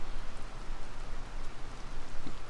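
Steady rain falls in the video game Tears of the Kingdom, a dense, even patter of drops on surfaces filling the whole stretch at moderate volume.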